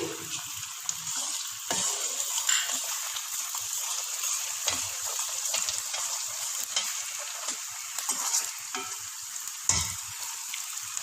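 Whole cumin seeds crackle and fizz steadily in hot oil for a biryani, a fairly quiet, continuous sizzle with scattered sharper pops.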